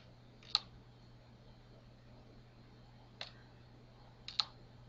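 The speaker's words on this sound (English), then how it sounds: "You can click and drag on different parts of the body to make them go how you want them to be." A computer mouse clicks three separate times, crisp and close, with long quiet gaps between them over a low steady hum.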